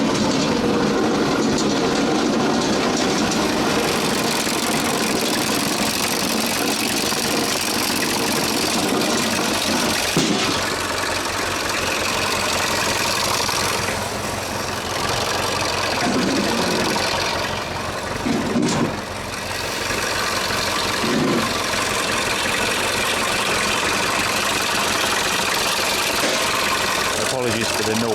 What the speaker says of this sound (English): Apologies for the noise, but I can't exactly turn the tractor off.